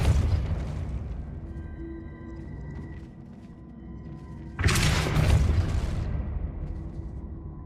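A Depulso force spell cast in Hogwarts Legacy gameplay, a loud booming burst with a rumbling thud that follows a fading earlier blast, game effects up close without speech.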